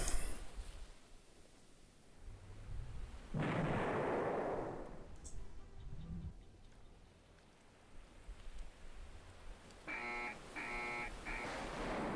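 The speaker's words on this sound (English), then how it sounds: "Hit by a missile." A missile strike explosion in the naval wargame Rule the Waves 3 gives a broad, loud burst that rolls for about a second and a half. Fainter blasts and a short series of rapid pops follow later.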